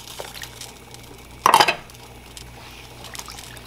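A cup of liquid is tipped into a cooking pot of mangoes in syrup, one brief splashing pour standing out against a quiet kitchen background.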